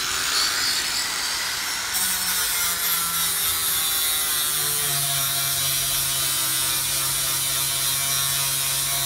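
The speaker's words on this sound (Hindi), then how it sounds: "अब मैं इस जंग को ख़त्म करूँगा इस ग्राइंडर से" A grinder works rust off the body of a 1996 Honda EK Civic, a steady, loud, continuous abrasive whine with shifting harmonic tones and no talk over it.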